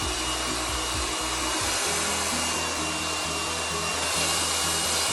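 Hair dryer on a cool setting blasts air through hair in a steady, loud broadband roar, with a low motor hum and slight fluctuations as it moves across the roots.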